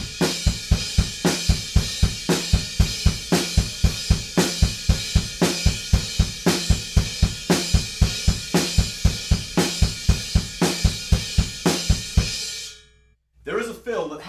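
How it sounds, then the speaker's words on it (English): A drum kit plays a steady groove, crash cymbal washing over eighth-note bass drum kicks with snare backbeats for about twelve seconds, loud and close, then cuts off. "We're going to head over to the crash cymbal, playing every 8th note on the bass drum except for the ones when the snare drum are in."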